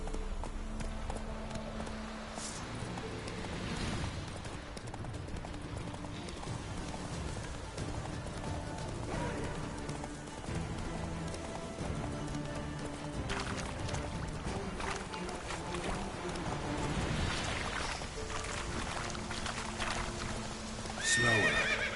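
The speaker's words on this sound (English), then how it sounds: "Whoa there, Roach" Hooves of the horse Roach clip-clop in a steady trot with neighs in The Witcher 3, a continuous galloping rhythm under game music and ambience, loud and close throughout.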